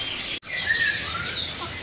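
Canaries chirp and trill continuously in a bird kiosk, a bright high chatter close by after a brief cutoff at the start.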